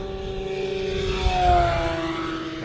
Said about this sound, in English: Here's full throttle on 4S